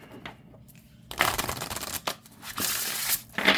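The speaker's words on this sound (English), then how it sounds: "I'm not having an issue shuffling it." An oracle-style card deck is shuffled in repeated bursts: quick riffling, flapping rustles that start after a quiet second and recur several times, close and crisp, with no speech.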